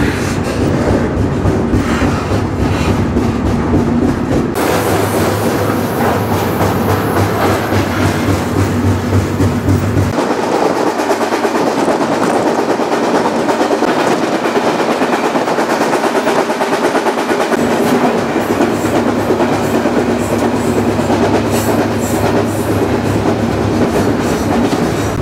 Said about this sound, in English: Finally, the train started making progress.